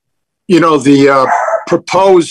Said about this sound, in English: excuse my dog here, he's a hell of a watchdog